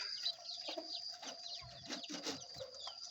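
Jungle fowl chickens cluck softly in short, irregular bursts, fairly faint, with occasional higher calls mixed in.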